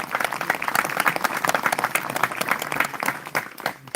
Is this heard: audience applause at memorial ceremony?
yes